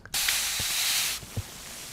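A spray bottle gives one long, close hissing spray of water lasting about a second, followed by quiet handling taps.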